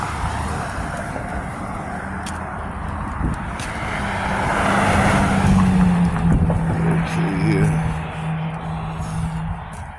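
A bus and other traffic pass along a city street: a steady motor rumble swells as a vehicle draws near and rolls by, then eases off, with no talking.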